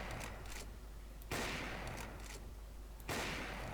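Sustained gunfire sprayed through a wall on the Inferno map in Counter-Strike, a steady loud rattle with sharper bursts standing out near the start and end.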